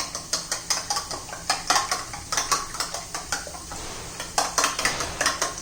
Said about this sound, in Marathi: तीन अंडी घेतली मी फेटून फिटून घ्यायचं आहे